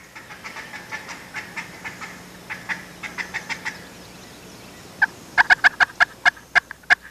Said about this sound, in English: The next call that she's probably going to do is a fly down cackle.